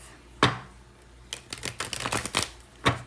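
Tarot cards riffle and slap together in short bursts, a quick shuffle close up framed by single sharp taps before and after.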